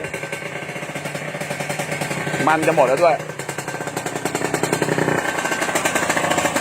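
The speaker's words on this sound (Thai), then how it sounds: "เสียงเครื่องประมาณนี้" A Kawasaki KR150 Serpico two-stroke motorcycle engine idles with a steady rattling chug, close and fairly loud, while a person talks briefly over it.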